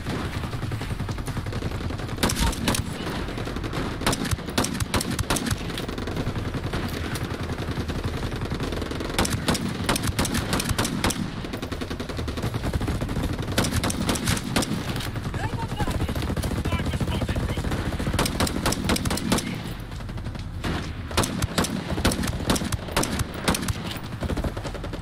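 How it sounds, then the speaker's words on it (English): Heavy enemy gunfire in Ghost Recon Breakpoint, rapid bursts of automatic fire and scattered shots crackling almost continuously over a dense, loud battle bed, with voices talking through the fight. "The enemy fire is too intense."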